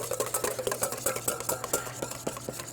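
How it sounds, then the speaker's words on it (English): A quick stir of a vinegar and mustard mixture in a bowl, with rapid rhythmic clinks and scrapes of a utensil against the sides, close and fairly quiet. "Just give it a quick stir."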